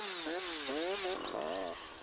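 A chainsaw cutting branches on the upper part of a tree trunk, its engine whining and rising and falling in pitch as the bar slides along the stem, loud and close with no talk.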